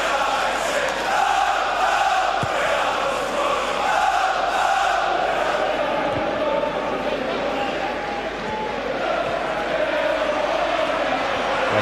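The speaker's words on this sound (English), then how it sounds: "by far the biggest crowd of the season at the Riverside" A large football crowd of nearly 34,000 at Middlesbrough's Riverside Stadium during a 2007-08 Premier League match against Manchester United roars steadily, a dense far-off wash of voices under a commentator's talk.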